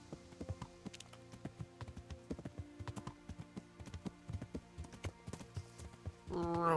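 Horse hooves clip-clop at a steady walking rhythm in the video game Kingdom Come: Deliverance, close and fairly quiet, with a voice starting just at the end.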